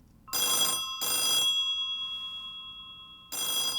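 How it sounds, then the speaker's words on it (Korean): An old telephone bell rings in bursts indoors, loud and close: two rapid rings, a pause, then a third ring starting. "갑자기 전화 소리가 울렸다."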